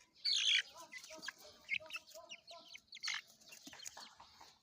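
Roosters peck at each other in a brief fight, with loud squawks and clucks, excited chicken calls and scuffling bursts at close range.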